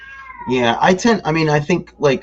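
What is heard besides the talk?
cat meowing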